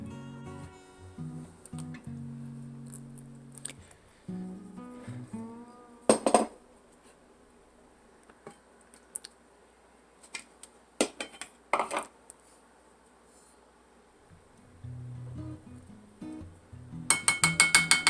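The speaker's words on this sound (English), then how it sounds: "pour everything into a bowl and then mix" Strawberry cake batter is mixed in a bowl, heard as scattered clinks and scrapes of a utensil against the dish, sporadic and close, separated by quiet gaps, with a brief hum early on and a final burst of rapid clatter.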